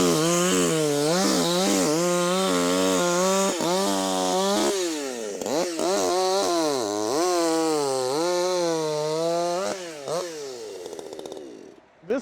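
A chainsaw, named by a Lithuanian woodcutter model as a saw, runs hard through wood at the start, whining loud and close with steady pitch dips as the load changes, then winds down near the end.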